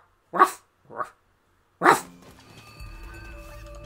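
A person imitates a dog with their voice, giving two short yips followed by a louder bark, then soft game music fades in underneath.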